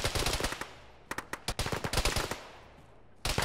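Bursts of incoming gunfire in a ShackTac military video game, with sharp rapid shots in short clusters, some single cracks and quick volleys, fairly close and loud with brief gaps between.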